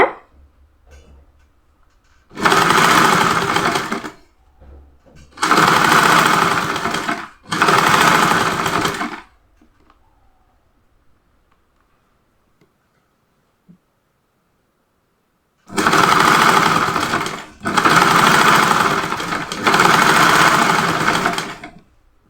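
An electric sewing machine stitching a kurta top runs in five loud, steady whirring bursts of about two seconds each, separated by near silence with a long quiet gap in the middle.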